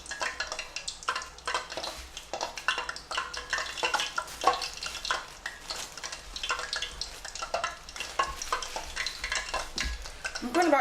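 Sandía chilies for Mexican street tacos frying and being stirred in a hot pan, with a steady crackling sizzle and frequent scraping and clinking of a utensil against the pan throughout, close and moderately loud, no talking.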